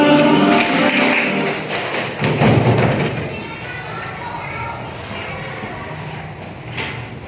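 A primary school class in a Sragen classroom does a rhythmic concentration clap, with patterned bursts of hand claps and taps crowding the first few seconds and then thinning into a quieter room.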